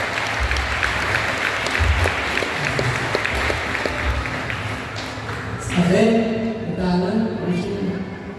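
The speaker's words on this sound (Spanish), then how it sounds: "Lo recibimos con fuertes aplausos." Sustained applause from a crowd at a council of elders gathering in Caxhuacan, Puebla, steady and fairly loud, tapering off as another voice starts to speak near the end.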